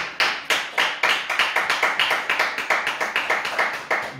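Church congregation clapping in a steady rhythmic beat, roughly three claps per second, loud and close, with a faint voice underneath.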